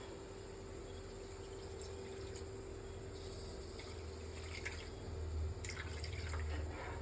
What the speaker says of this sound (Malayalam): അപ്പം ഞാൻ ഇത് കുറച്ച് ഒഴിക്കുന്നുണ്ട് ഇതിലേക്ക്.